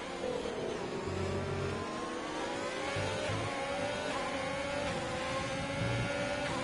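A race car in a racing game accelerates out of a corner at the France GP, its steady engine note climbing in pitch while other cars drone nearby under a constant layer of sound.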